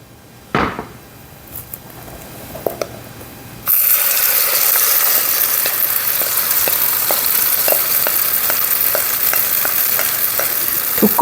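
Gochujang pancake batter sizzling loudly in a pan of cooking oil mixed with a little perilla oil, a steady dense hiss with small crackles after a few soft kitchen knocks.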